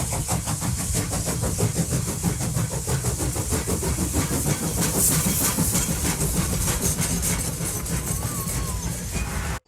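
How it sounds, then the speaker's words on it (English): A train passing beside the old Sandbach railway line, a dense continuous rumble and rhythmic clatter of wagons rolling by at steady loudness, fairly near, cutting off abruptly at the end. "I can actually hear trains now coming past."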